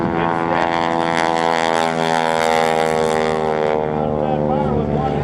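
A propeller airplane drones loudly and continuously overhead during a barnstormer wing-walking airshow, its engine tone steady with slight shifts in pitch, while an announcer talks over it.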